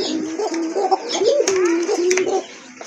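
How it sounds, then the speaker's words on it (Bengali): Domestic Koka pigeons, Arabian and local breeds, coo in a low, rolling, repeated call close by, with faint background noise from a pigeon market setting. "এই যে দেখেন আরেক জোড়া কোকা কবুতর"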